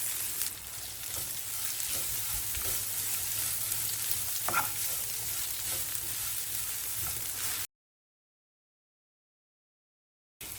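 Cashews and grated coconut sizzle in hot oil for Chettinad white chicken kurma, a steady close frying hiss with occasional stirring scrapes, then a sudden cut to silence near the end.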